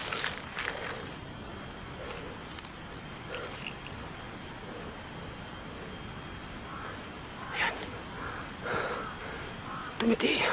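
Several harsh crow caws ring out at moderate distance over a steady outdoor hiss, with a cluster near the start and more toward the end.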